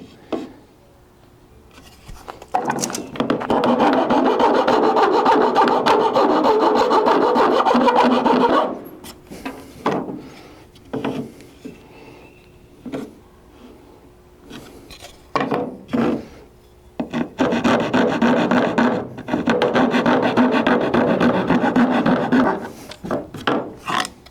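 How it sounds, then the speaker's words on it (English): A hand rasp files wood trim during a bathroom remodel, making rapid rhythmic scraping strokes up close in two long sustained bursts, with short scattered strokes in between. "we can go in there with a rasp or a file and clean some of that up too"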